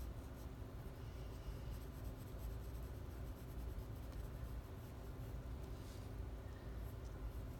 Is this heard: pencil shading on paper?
yes